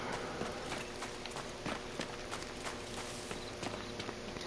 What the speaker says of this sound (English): Could have just been my own footsteps.